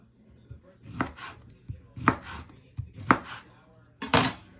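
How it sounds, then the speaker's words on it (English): Knife chopping sausage into little rounds on a cutting board, four distinct firm chops about a second apart, each a sharp crisp knock with a short ringing tail, close and clear with no talk. "I'm going to go ahead and cut that into little rounds"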